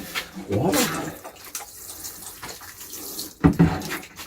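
Water poured over freshly sown seeds in a garden trough, a splashing, running flow in two short bursts with a quieter stretch between.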